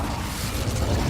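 Incendio fire spell cast in the Hogwarts Legacy video game, a dense, roaring burst of flame with a rumbling boom that holds steady and swells slightly toward the end.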